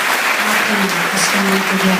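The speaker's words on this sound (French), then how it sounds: "On nous applaudit le Seigneur." A church congregation applauds the Lord during a worship and adoration moment, dense steady clapping throughout with a voice speaking over it.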